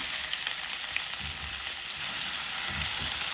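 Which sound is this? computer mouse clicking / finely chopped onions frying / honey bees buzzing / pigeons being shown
finely chopped onions frying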